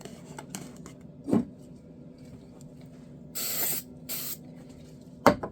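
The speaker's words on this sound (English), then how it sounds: "Hit it with a little activator." CA glue activator is sprayed onto wood in two short hissing bursts from close range. Faint taps and handling knocks sit between the bursts in a quiet room.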